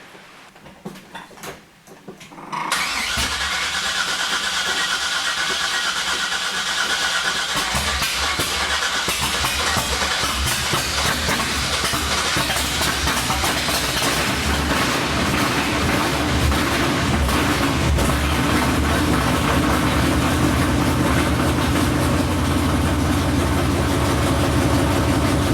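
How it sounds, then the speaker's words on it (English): A 1969 Chevy engine cranks briefly, then catches and settles into a loud, steady idle that rumbles on without a break. "at least it starts, runs, and moves right now"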